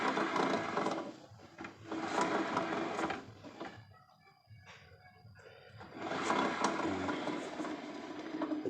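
Grinding noise from the CVT of a Honda Vario 110 carburetor scooter, a rough, rasping mechanical whir that runs steadily, dips quieter for a couple of seconds mid-way, then returns at similar strength; fairly faint overall.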